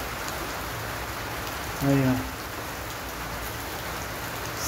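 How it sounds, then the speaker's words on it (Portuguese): Heavy rain pours steadily, a dense wash of noise, with a brief spoken remark close by partway through. "Chovendo bastante."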